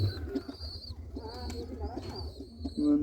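Soft pigeon cooing and squeaky calls from silver-colored pigeon chicks sound close by, repeated in short bursts against a low background rumble.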